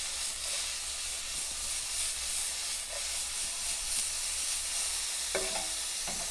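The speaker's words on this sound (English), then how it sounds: "Just toss it like this to stir fry." Chow mein noodles stir-fried and tossed in a wok over a high flame, a steady close sizzle and hiss with occasional scraping clatters from the tossing.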